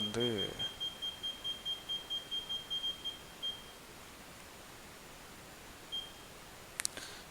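A Leica TS0 total station gives a rapid run of about fifteen evenly spaced, high electronic beeps, then stops; a single short beep follows a few seconds later, with a faint click near the end and no talking.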